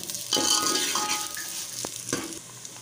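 Chopped onions sizzle in hot oil in a pan, a steady close frying hiss with a couple of stirring scrapes and light clinks, no talk.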